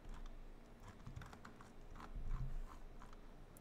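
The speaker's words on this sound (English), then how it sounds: "here I can type in the name of my new account" A computer keyboard is tapped in quick, uneven bursts of soft keystrokes, close and quiet, with short pauses between runs and no talking.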